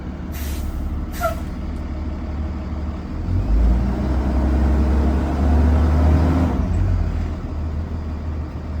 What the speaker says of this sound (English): I will press the accelerator up to 1500 RPM and release my foot off the accelerator